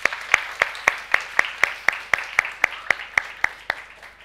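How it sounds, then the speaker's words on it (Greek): Clapping for a school's performance comes as a slow, rhythmic series of about fifteen sharp, evenly spaced claps, loud and close, like a steady beat rather than scattered applause. "Άλλο ένα χειροκρότημα"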